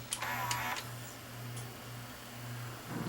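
Sony SLV-R1000 VCR tape-threading mechanism running after power-on: a steady low motor hum with a few short clicks and whirring mechanical ticks near the start, close and moderately quiet, no talk.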